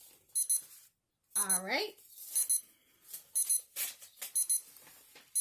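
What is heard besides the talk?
timer alarm going off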